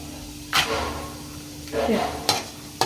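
Cumin and mustard seeds crackling in hot oil in a pan as peanuts are added to fry, heard up close as a few sharp, sputtering sizzle bursts over a low steady hum.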